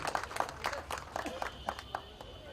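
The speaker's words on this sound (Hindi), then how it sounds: "कम से कम तालियों से स्वागत तो कीजिए भाई।" A small audience at a film trailer launch gives scattered, fairly faint applause, a handful of distinct claps in an irregular rhythm.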